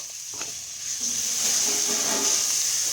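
Chili paste ingredients stir-frying in a pan for Thai nam phrik, a steady bright hiss of sizzling that rises and holds throughout, close and fairly loud, with no talk.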